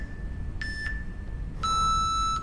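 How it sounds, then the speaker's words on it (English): A workout interval timer gives two electronic beeps, a short one and then a longer, louder one, in a quiet gym. "You hear the beeps?"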